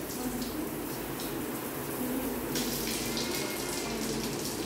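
Water pouring steadily from a bathroom shower, a continuous close rushing spray with slight shifts in flow, no voices.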